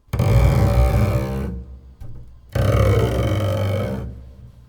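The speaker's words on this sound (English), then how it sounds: "if we were to place a scrape on the low string, it might sound something like this" Bow scraping across the low string of a double bass: two long, gritty, rasping strokes separated by a short pause, loud and close with a coarse low growl.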